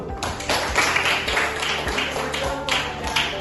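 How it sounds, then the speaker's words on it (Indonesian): A school class applauding together in a classroom, a steady spread of many hands clapping at once, fairly close and filling the short stretch without a pause. "beri aplaus dulu"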